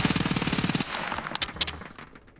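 Rapid automatic gunfire in Escape from Tarkov, a fast burst of evenly spaced shots for under a second, then scattered echoing impacts and tails fading out, loud and close with no talk.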